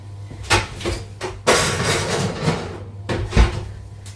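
An oven door in a home kitchen shuts with a few solid clunks and bangs, spaced apart over a low, steady hum.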